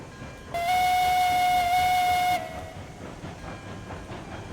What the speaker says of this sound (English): Boy, that whistle is seriously high pitched.